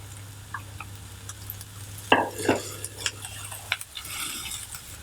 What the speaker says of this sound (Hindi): प्याज को ज़्यादा गोल्डन नहीं करना है, बस थोड़ा सा फ्राई करना है।